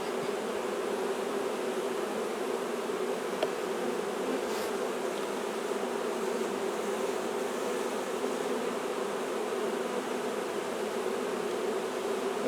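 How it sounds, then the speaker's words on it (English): Upset honeybees swarm around a nuc with an Alberta-bred queen ahead of a thunderstorm, a dense, steady buzzing drone that holds evenly and softly throughout with no talking. "so no wonder the bees are upset"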